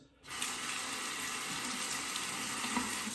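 Tap water gushes steadily into a sink for a rinse after shaving, starting abruptly and running loud and continuous without pause.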